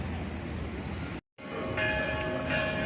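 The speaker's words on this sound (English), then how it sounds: "all of a sudden the bells started ringing" Church bells ring out across a town square in Gyumri, Armenia, a distant metallic pealing under steady outdoor crowd and street noise, briefly cut by a short silent gap before the tolling continues.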